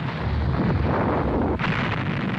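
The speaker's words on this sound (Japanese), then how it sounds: "火山の爆発に" Volcanic eruption sound effect from a Japanese dinosaur anime: a loud, continuous roaring rumble, dense and unbroken for a couple of seconds, with a brief dip partway through and no voices.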